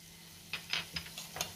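Coriander seeds and cumin sizzle in a little hot oil in a pan on a gas stove, a series of soft, brief crackles and spits that come in small bursts close by, with no talk over them.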